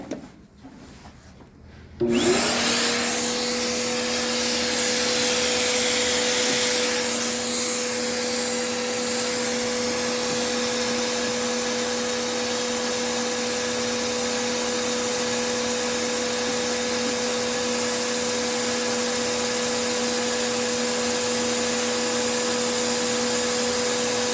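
A vacuum cleaner drawing about 100 amps from a 12V 200Ah lithium iron phosphate battery switches on after a brief quiet moment, then runs as a loud, steady whine and hum for over twenty seconds, no talking.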